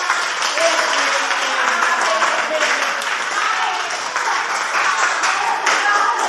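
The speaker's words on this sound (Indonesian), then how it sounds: "Tepuk tangan buat kita." Classroom applause from a group of students, a steady dense wash of clapping that holds loud and even throughout, with no voices standing out.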